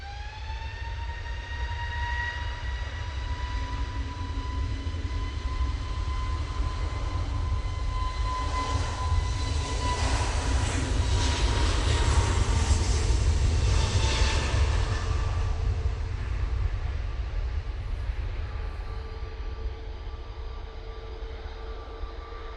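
An easyJet Airbus A320neo departs Manchester Airport, its engine roar swelling to a broad, loud peak mid-clip with a falling whine, then easing into a steady distant rumble.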